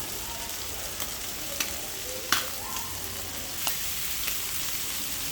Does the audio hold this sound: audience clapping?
no